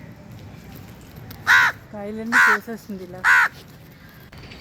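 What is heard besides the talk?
crows cawing in a terrace garden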